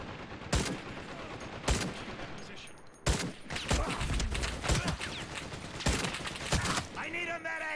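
Video game gunfire: sharp, loud shots cracking out singly at irregular intervals, with a busy stretch of rapid firing in the middle and noisy game sound between shots.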